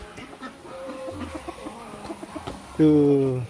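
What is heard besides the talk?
chickens clucking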